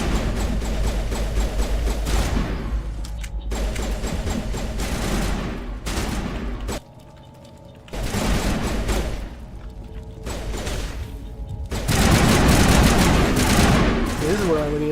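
Sustained bursts of rapid automatic gunfire from the video game Mass Effect, loud and dense with brief pauses between volleys and a quieter lull midway, while players talk over the shooting.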